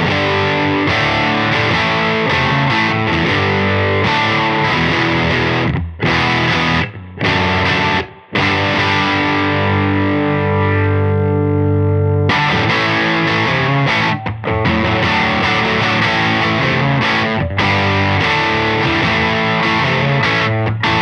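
Electric guitar through a Caroline Wave Cannon Zero distortion pedal, heavily saturated and thick, with sustained chords broken by a few brief stops, loud and alone.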